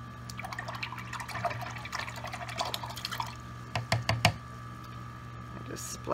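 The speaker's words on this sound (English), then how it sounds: "I just splashed some water on my canvas." A few sharp watery splashes and drips land close by on a canvas during acrylic painting, clustered near the end, over a low steady hum with faint background talk.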